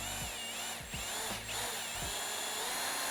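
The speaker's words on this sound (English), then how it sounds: "literally just using the weight of the drill to go through the boot here" An electric drill works through the metal boot lid of a BMW G87 M2 or G42 M240i for a rear wing fitting, a steady close whine with slight pitch wobbles as the bit bites.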